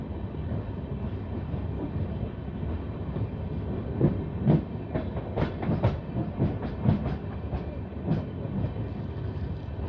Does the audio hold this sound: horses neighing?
no